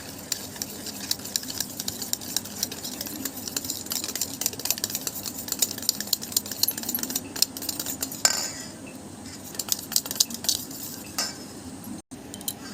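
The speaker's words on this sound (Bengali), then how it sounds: "হাফ কাপ তেল দিয়ে দেব। তেলটা ভালোভাবে মিক্সড করে নেব।" Oil being mixed into vanilla sponge cake batter, a utensil scraping and clinking steadily against a bowl at close range, with no talking.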